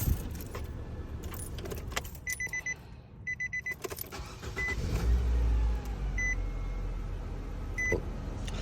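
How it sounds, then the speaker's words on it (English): A 2013–2019 Nissan Sentra 1.8 (B17) with a weak battery is started. A short burst of cranking is followed by the engine catching and running, with key jangles and a few electronic chimes heard close by. "we're gonna try to do a few startups"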